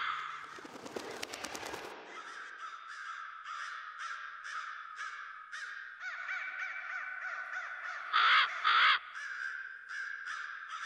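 Crows caw repeatedly in an art installation at Tate Modern, a steady run of harsh calls close by. It opens with a noisy rattling burst, and two louder squawks come near the end.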